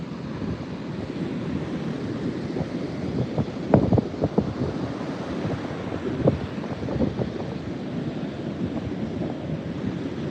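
Water waves washing in close to shore, a steady broadband surf wash with louder breaking bursts, mixed with wind buffeting the microphone.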